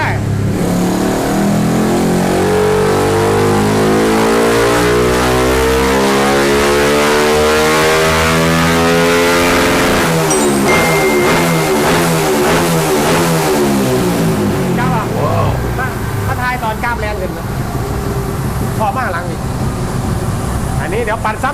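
A carbureted motorcycle engine fitted with an aftermarket CDI ignition box revs loudly on a dyno stand, climbing and falling in steady sweeps with a rev-limiter cut stutter near the end. No one speaks.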